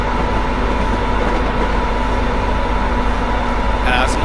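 Class 86 electric locomotive in Train Simulator 2016 gathering speed on the line toward Carstairs, a steady loud rumbling drone with a constant hum throughout and a brief higher whine near the end.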